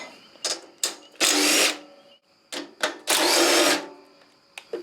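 Bolts on the cylinder head of a Homelite generator are loosened with a ratchet, giving close, sharp bursts of clicking and metallic rasping in short groups separated by brief pauses.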